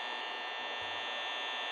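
Continuous fan hum in the video game Five Nights at Freddy's on Android, an even, buzzy drone with a high steady tone and a few soft low knocks underneath.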